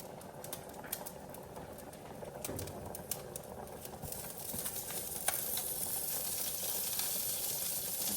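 Vegetables sizzle in a tablespoon of olive oil in a stir-fry pan for a teriyaki chicken stir-fry, a steady close hiss and crackle with scattered pops that grows slightly louder toward the end.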